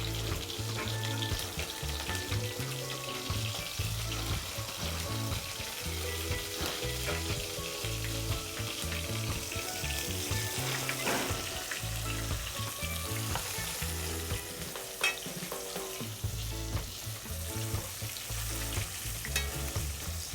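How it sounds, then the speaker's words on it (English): Steady, continuous sizzling of chicken frying in hot oil, loud and close, with occasional crackles and pops and no talking. "now you can see I put my chicken frying"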